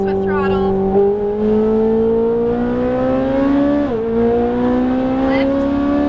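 Ferrari 458 Italia engine accelerating on a track, a loud, close, rising whine that climbs steadily, dips briefly on a shift or lift, then builds again, with a voice coaching over it.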